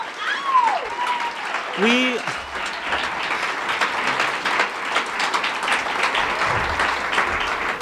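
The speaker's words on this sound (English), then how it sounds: "Can we just clap again for Lois" Audience applause at a 2019 graduation ceremony after a piano performance, a steady wash of many hands clapping that builds and sustains throughout, with a few whoops and voices over the top.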